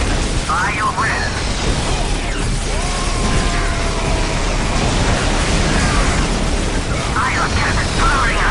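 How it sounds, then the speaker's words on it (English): A T'au ion cannon in Warhammer 40,000 Dawn of War Soulstorm charges up with a steady mechanical whine amid rising and falling tones, with battle booms and a voice speaking over the dense game mix. "Ion cannon powering up."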